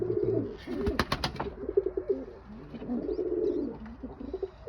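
Pigeons in a coop coo in low, rolling phrases that repeat and overlap, close by, with a brief flutter of wings and faint rustling between calls.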